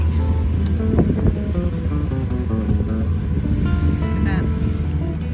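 A sailboat running under engine power at sea, with a steady low motor drone and wind and wave wash throughout, while voices talk over it.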